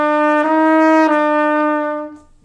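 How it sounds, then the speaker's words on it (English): Trumpet plays slurred quarter notes from measure 15, only the first note tongued, producing a few smooth connected tones that ring clearly and loudly before fading, with no talk. "So to play slurred notes, on the trumpet, what we do is we tongue the first of every group of notes."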